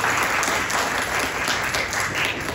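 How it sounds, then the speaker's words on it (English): An audience at a national convention applauds, a dense, steady wash of clapping that is loud and sustained across the whole stretch. "Y'all applauded before I got a chance to say, let's thank LaShawn and give her a round of applause."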